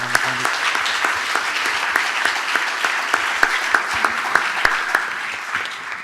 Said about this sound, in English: could we have a good round of applause for this panel?